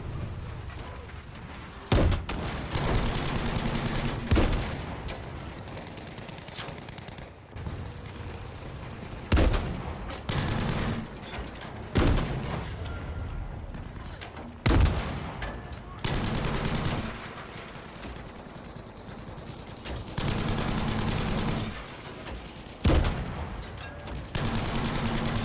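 Battlefield V combat on a Pacific map: bursts of automatic gunfire and sharp single shots crackle at irregular intervals over a constant rumbling battlefield din, near and loud.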